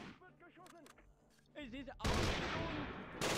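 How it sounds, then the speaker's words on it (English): Gunfire in the Close Combat 3 wargame: after a couple of seconds of tonal, voice-like sounds, a dense, rough burst of shooting erupts and holds steady, then swells again at the end. "They can open fire."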